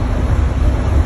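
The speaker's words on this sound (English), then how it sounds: "I do have the windows open along the side, so there's some wind noise." Steady broadband wind rushing through the open side windows of a moving 1997 Gillig Phantom transit bus, a constant close roar with low rumble and no clear engine sound.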